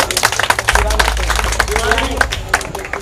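Villagers at a rural government ceremony handing out property records clap their hands in a loose, scattered round, close by, while people keep talking over the applause.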